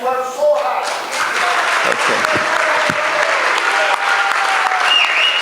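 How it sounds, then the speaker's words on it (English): A burst of applause from a crowd at a community leaders' appreciation event at ISKCON Chicago, steady and sustained, with a voice briefly audible at the start. "Everybody should clap."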